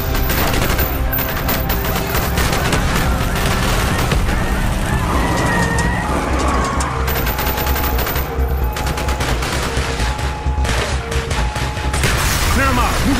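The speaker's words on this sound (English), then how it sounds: "Bowman, Carlos, lay down covering fire." A street firefight in Call of Duty: Black Ops during Operation 40 brings loud, continuous gunfire, with rattling automatic bursts, overlapping shots and booms layered densely throughout, while voices shout faintly under the din.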